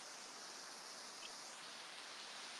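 Roaring mountain river in Asheville, North Carolina, a steady dense rush of water filling the scene evenly from start to finish, with no voices over it.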